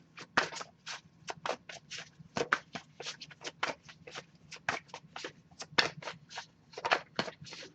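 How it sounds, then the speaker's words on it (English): Tarot cards are shuffled in quick repeated riffles and snaps, close and crisp, with a brisk uneven rhythm and no talking. "I'll give it a few more shuffles"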